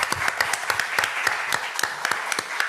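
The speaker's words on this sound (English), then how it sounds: "So I would ask you for an applause for all the..." Audience applause closing a panel session on corporate governance and corporate reporting, steady dense clapping from a room of listeners throughout, moderately loud and continuous.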